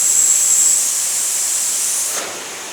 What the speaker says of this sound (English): Once fully inflated, there should be a pushback of air.